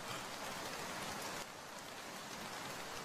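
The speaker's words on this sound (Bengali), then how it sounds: "বাইরে হালকা বৃষ্টির আওয়াজ।" Light rain falls outside as a steady, even hiss of drops on surfaces with no thunder, continuous from start to finish at low volume.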